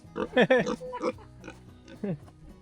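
A pig grunts and oinks in short bursts close by, mixed with a person talking.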